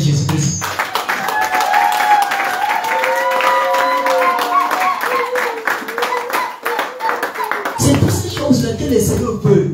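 Church congregation clapping loudly and rhythmically while acclaiming Jesus Christ, with sung or chanted voices over the claps and a crowd swell at the end.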